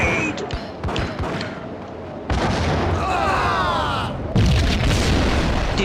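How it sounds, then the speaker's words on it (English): A grenade goes off in the Max Payne video game, delivering loud, booming explosive bursts amid ongoing gunfire and chaotic combat noise, with several heavy impacts spread over the few seconds. "Grenade!"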